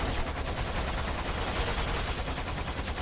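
Automated turrets unload continuous rapid gunfire in a sci-fi shooter video game, a dense, steady barrage of overlapping shots at close range that never lets up.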